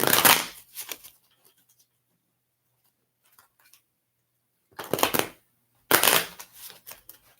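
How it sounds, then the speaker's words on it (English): Tarot cards being shuffled by hand in three quick, close bursts of papery riffling, separated by quiet pauses, with no talking. "Let me shuffle the cards here."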